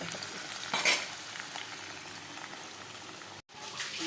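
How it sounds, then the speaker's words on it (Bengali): Potatoes frying in oil in a wok make a soft, steady bubbling sizzle, broken by a brief louder scrape and clink of stirring near the start. "আলুগুলোকে একটু ভেজে নিই।"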